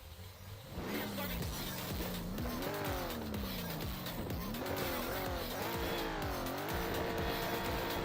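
Two cars drifting in a virtual drift racing game at Circuit Val de Vienne, an 80 Supra and a BMW, with loud revving engines rising and falling over continuous tire squeal and skidding.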